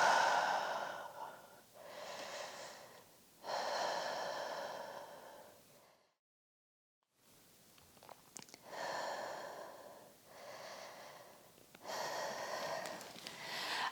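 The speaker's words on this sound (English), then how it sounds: "So a big inhale, and then exhale," A pregnant woman's slow, deep breathing during an early labor workout, long audible inhales and exhales repeating in a steady rhythm, close to the microphone, with a short silent gap midway.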